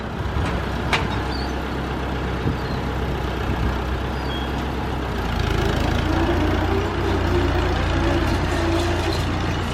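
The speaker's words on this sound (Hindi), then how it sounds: "देखिए ट्रैक्टर काम कर रहा है।" A tractor clearing stones and brush from a farm field rumbles continuously at close range, its engine note deepening and growing slightly louder partway through.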